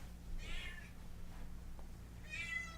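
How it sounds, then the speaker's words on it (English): A house cat meows twice, faint and somewhat distant, over a low hum in a quiet podcast room, with a long pause between the two calls. "The cat wants to be on the podcast."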